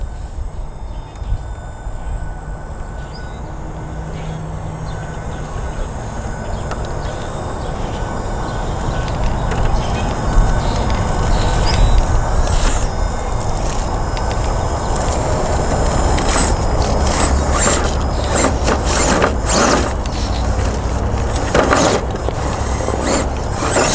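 An RC rock crawler driven by a Castle Mamba Micro X2 ESC grinds slowly over rocks, with a steady motor whine, gear noise and crunching, clattering bursts as the tires climb, close and continuous.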